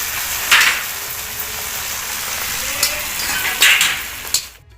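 Fenugreek seeds sizzle and fry in a hot pan with onion for a fish curry, a steady close crackle with a few louder spits and clatters from stirring, no talk over it.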